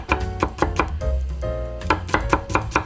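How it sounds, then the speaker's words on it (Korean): Mixed vegetables being cut into fine strips with a knife for buckwheat pancakes, rapid rhythmic chopping taps on a board, close and crisp, with a short pause in the middle. "채는 좀 곱게 썰어주세요"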